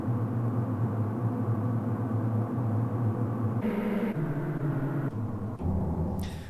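A subtle craft bass sample from the Uncanny Dream pack rumbles low and steady, shifting pitch in several stepped sections toward the end.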